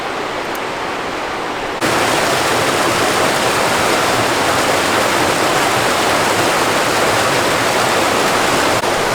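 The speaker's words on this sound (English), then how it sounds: "right now there's a lot of water running down the rocks" Water rushing down rocks in a gorge, a loud, dense, steady roar that swells up after a quieter first couple of seconds and stays constant, near at hand.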